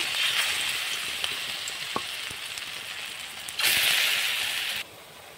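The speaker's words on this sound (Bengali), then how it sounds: "এক এক করে আমি লাউ বড়া করতে দিয়ে দিব।" Gourd fritters fry in hot oil with a steady, bright sizzle, swelling louder for about a second as more batter goes in, then settling back to a quieter crackle.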